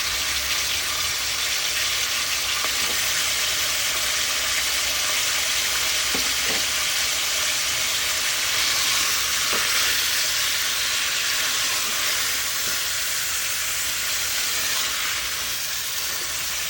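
Steady loud sizzling of chicken feet frying in a hot pan, continuous crackling hiss with occasional soft stirring clinks, no talking.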